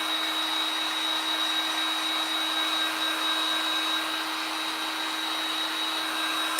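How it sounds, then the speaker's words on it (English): A heat tool blows continuously while drying craft paste on a DIY cookies and cocoa riser, a steady, even whirring hiss with a high whine, alone and close. "With your heat tool, it'll dry in about 20 seconds."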